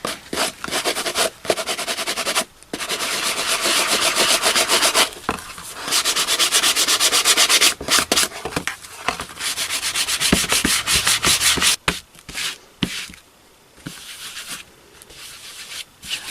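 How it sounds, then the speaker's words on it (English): Regular hardware-store sanding block rubbing across a handmade junk journal cover to distress it, a steady close scraping hiss in long strokes with brief pauses between passes. "I'm just going to do that with a regular sanding block from the hardware store"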